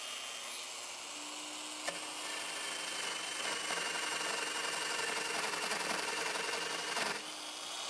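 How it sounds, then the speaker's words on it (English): Power cutter steadily slicing through a clamped wood board in a woodshop, a continuous faint high whine and buzz lasting several seconds with a couple of small clicks, no voices. "So I just lay the cutter right up on my layout line, hold it steady."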